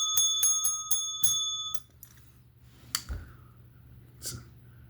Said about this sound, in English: Freaking bell.